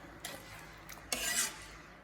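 A spoon stirs clear Thai omelette soup after seasoning powder goes in, giving a few brief scrapes and clinks against the pot and a louder swishing stroke near the middle, close and quiet with no voices.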